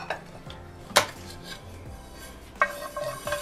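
Fenugreek and kalonji seeds stirred in a dry frying pan with no heat, light scraping and rattling with a couple of sharper metallic clinks of the utensil against the pan.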